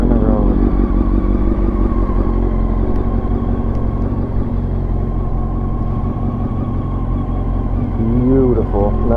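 A Honda CBR929RR motorcycle ridden on the road after getting a new radiator, its engine droning loud and steady with rising and falling revs near the end, while voices talk over it.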